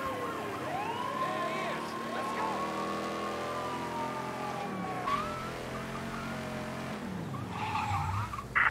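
In the video game Mafia 3, police car sirens wail over the roar of car engines and tyre skids during a chase.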